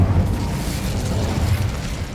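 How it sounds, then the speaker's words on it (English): A loud roaring burst of the Incendio fire spell from the video game Hogwarts Legacy, a dense low rumbling blast that fills the whole moment and fades slightly. "Incendio."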